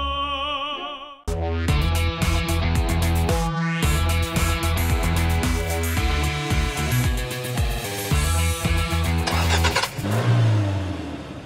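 A car drives along following a red Mazda 6, its engine note steady and prominent through the whole stretch, with shifting mid-range hum and some revving, and no talking over it.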